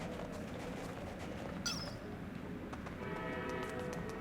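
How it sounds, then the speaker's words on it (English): A train approaching in a scene: a continuous broad rumble and clatter holding steady throughout, with a brief high whistle-like tone near the middle, fairly faint and with no voices. "there's a train coming"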